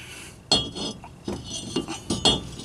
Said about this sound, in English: Then we're going to slide our rotor on